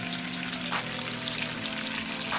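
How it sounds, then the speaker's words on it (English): Bacon crisping in a pan, a dense, steady sizzle with fine crackling and spitting running throughout at an even, fairly close level. "I'm going to cook the bacon until it's nice and crispy"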